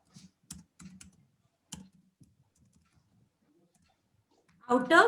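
Sparse clicks of a computer keyboard as C++ code is typed, a few quiet keystrokes spread out in short bursts with pauses, followed by a brief louder burst at the end.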